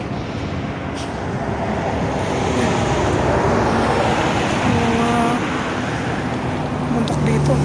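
Loaded trucks grind slowly up a steep road, a steady broadband roar of engines and road noise with low droning tones, heard close from a bike alongside, with a voice talking over it.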